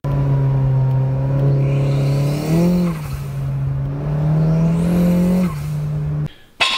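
Turbocharged Nissan MR16DDT car with a high-compression V2 engine and big turbo, driving under load: a steady engine drone rises and falls through gear changes, with turbo whine and whoosh, loud and close, no talk.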